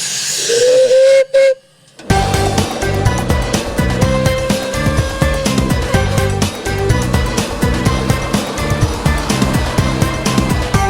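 A steam whistle shrieks over a loud hiss at a classic truck and machinery show, cuts out briefly, then gives way to a dense, rhythmic clatter that continues steadily.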